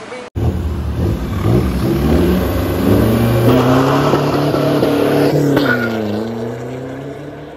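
A tuned Toyota Innova engine revs hard in second gear from inside the cabin, a loud rising drone that climbs steadily, then dips briefly as it shifts and picks up again.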